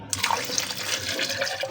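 Water pours from a container into a glass of mint juice drink, a steady close splashing and gurgling fill heard alone for under two seconds.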